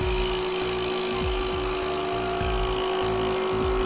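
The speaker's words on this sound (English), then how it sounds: "Turn the bottle sampler on." A bottle sampler runs under vacuum, giving a steady mechanical motor hum with a strong sustained tone and a rhythmic pulsing undertone, loud and continuous throughout with no voices.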